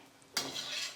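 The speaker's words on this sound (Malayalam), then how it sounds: "തേങ്ങയും കൂടെ നമുക്ക് കോരിയെടുക്കാം." Roasted coconut scraped and scooped from a hot heavy-bottomed pan while making Onam sadhya inji curry; a sudden close scraping stir starts partway through and continues as a steady rasping rustle.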